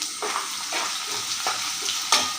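Garlic, ginger and curry leaves sauté in hot oil in a pan, a steady close sizzle broken by several short scraping stirs, with no talking.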